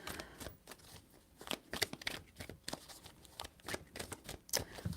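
Tarot cards are shuffled by hand in quick soft riffles and slaps. The bursts are irregular and quiet, close up, with no talking.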